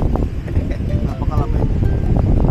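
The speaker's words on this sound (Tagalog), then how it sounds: "Sobrang mahangin lang." Strong wind gusting across Al Hamriyah Beach in Ajman, a steady loud rumble buffeting the microphone throughout, with a voice talking underneath.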